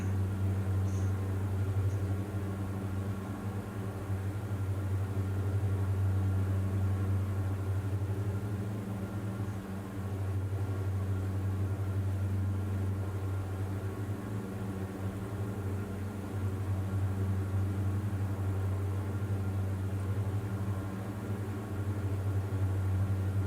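Twin piston engines of a Diamond DA42 aircraft in Microsoft Flight Simulator during low mountain VFR flight, a steady loud low drone with constant hum, unchanging throughout with no talk.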